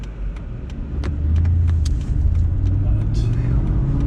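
A 2008 Aston Martin V8 Vantage's engine rumbles low and steady from inside the cabin while driving on a country road, swelling slightly, with sharp clicks scattered over it.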